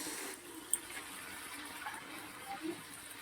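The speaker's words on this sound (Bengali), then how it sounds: "আমি তিন কাপ জল দিয়ে দেবো" Water poured from a measuring cup into a cooking pot of sautéed potatoes for a fish-head curry, a soft steady splash and trickle at close range, quiet and continuous for a few seconds.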